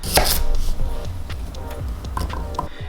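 A kitchen knife slices vegetables in half on a cutting board for vegetarian corn dogs, sharp chopping strikes landing at an uneven pace, close and clear with no talking.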